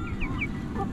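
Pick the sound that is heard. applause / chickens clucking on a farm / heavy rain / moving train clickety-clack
chickens clucking on a farm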